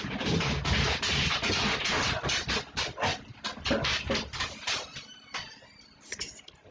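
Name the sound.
dog whimpering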